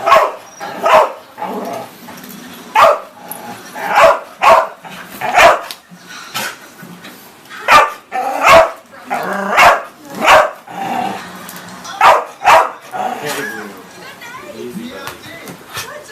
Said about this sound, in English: I think he's barking at the noise.